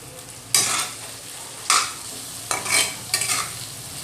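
Aubergine bharit frying over medium heat as coriander gets mixed in: a low oily sizzle under four loud scraping stirs of a spoon against the pan, close up with no talk.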